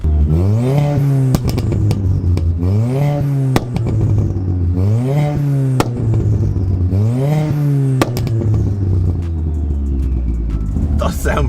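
Stage 3 tuned Ford Fiesta ST turbo engine blipped repeatedly, four rising-and-falling revs from idle in a steady rhythm, loud and close, with someone talking briefly over the idle.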